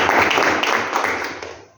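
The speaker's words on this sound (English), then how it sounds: "Round of applause to each and every" A room of attendees at a property networking event gives a round of applause, dense and fairly loud clapping that carries steadily and then tapers off near the end.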